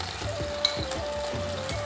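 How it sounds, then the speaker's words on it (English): Apple pieces stir-frying with brown sugar in a pan give a steady close sizzle, with a faint rhythmic scrape of stirring beneath the hiss. "So stir fry the apple just for a few minutes until it's softened"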